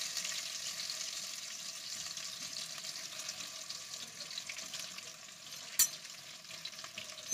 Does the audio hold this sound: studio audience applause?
no